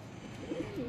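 Old rooftop pigeons giving a soft, low coo that rises and falls a couple of times within a second, close but quiet over a faint background hum.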